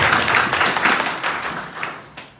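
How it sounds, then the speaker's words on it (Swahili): A church congregation at a mission gathering in Nyamira claps loudly together, with dense rhythmic hand claps that thin out and fade over a couple of seconds. "Patia Bwana makofi mazuri jamani"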